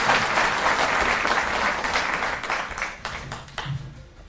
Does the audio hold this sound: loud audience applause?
yes